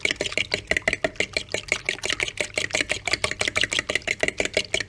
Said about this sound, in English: pepper into the eggs, and I'm going to whisk these up